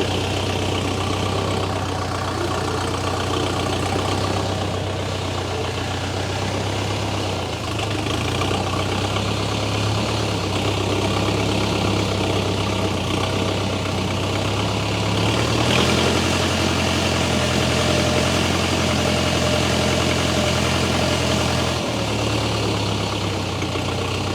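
A mini tractor engine with a front loader runs steadily and loudly on asphalt throughout, with a low idling drone whose pitch shifts slightly a few times.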